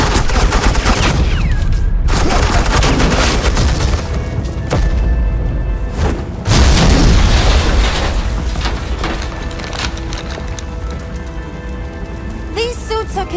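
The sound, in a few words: suppressing gunfire in Batman: The Enemy Within video game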